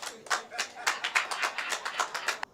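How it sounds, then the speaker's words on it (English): Scattered audience clapping in short bursts, a dozen or so uneven claps close by with a thin smattering rather than full applause. "No round of applause for that?"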